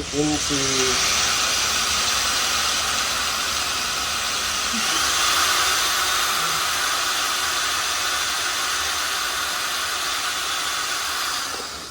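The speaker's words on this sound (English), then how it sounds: "Hold this one firmly, otherwise it's going to spin with the drill" A power drill grinds a hand-held sample steadily and loudly for DNA extraction, a continuous buzzing whine with a brief voice at the very start.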